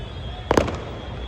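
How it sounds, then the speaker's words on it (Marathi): A short cluster of sharp firecracker bangs, two or three quick cracks close together, bursting behind a crowded Shivjayanti procession in Satara, standing out briefly over a low steady crowd hum. "मागं फटाके वाजतात"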